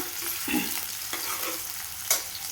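Onion and curry leaves sizzle and crackle steadily in hot ghee, with a few sharp clinks of a utensil stirring the pan.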